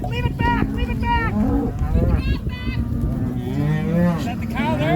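Black Angus cattle on a Rocky Mountain foothills ranch during branding-day herding moo loudly and close, several overlapping calls in quick succession, with some people talking in between.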